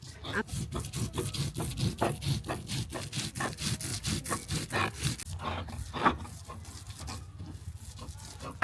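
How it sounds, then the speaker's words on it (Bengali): Red lentils (masoor dal) being ground into a paste by hand on a stone, a rhythmic close scraping rub in quick regular strokes that slows and thins toward the end. "আর মসুর ডাল বেটে নিচ্ছি"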